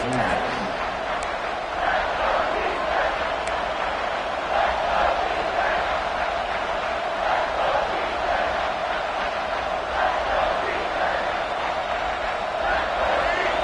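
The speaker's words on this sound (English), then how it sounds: "this crowd is getting behind this defense" Roaring football stadium crowd at Ole Miss versus Texas A&M, cheering on the defense with a steady, dense wall of noise, a commentator's voice running over it throughout.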